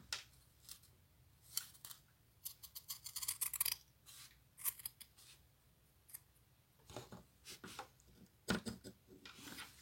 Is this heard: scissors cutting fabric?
yes